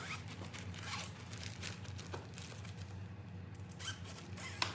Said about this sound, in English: And then we're going to zip the fabric along the bottom.